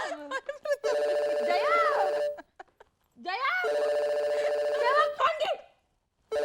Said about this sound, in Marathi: फोन आलाय फोन आलाय मी फोन घेते